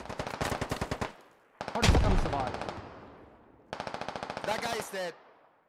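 Bursts of automatic gunfire in a video game firefight, rapid rattling volleys in three separate strings with a heavy blast between, fairly close and loud over a quiet background.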